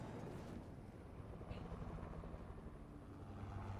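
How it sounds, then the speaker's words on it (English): A helicopter in the Fortnite video game whirs with a steady, low rotor drone that stays fairly faint and constant, with no other sounds standing out. "we know that isn't Shottle in that helicopter"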